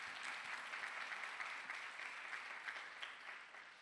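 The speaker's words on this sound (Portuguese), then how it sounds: "Salva de palmas para ele" Applause from an audience at a corporate diversity and inclusion event welcoming a guest, a steady dense wash of clapping sustained for several seconds at moderate level before tapering slightly at the end.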